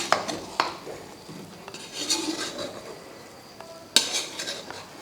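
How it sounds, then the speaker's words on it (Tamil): A pot of vegetable biryani made with ordinary rice is stirred: scattered scraping and clinking of a spoon against the metal pot, with brief louder knocks near the start and close to the end. "இப்போ லேசாக இதை கிண்டி கொடுத்துட்டோம்னா எல்லாமே ஒரு மிக்ஸ் ஆகிடும்"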